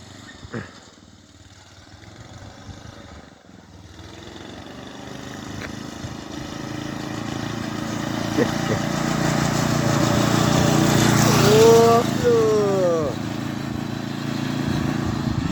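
A racing lawn tractor's small engine runs steadily close by, rising in loudness as it revs, with a whining tonal sweep near the end and a few knocks and clatters around it.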